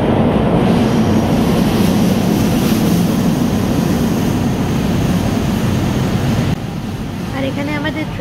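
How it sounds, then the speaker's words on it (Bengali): A train pulls into a station in Toronto with a loud, close rumbling roar and wheel noise that eases after several seconds. A brief voice is heard near the end. "আর এখানে আমাদের ট্রেন চলে এসছে"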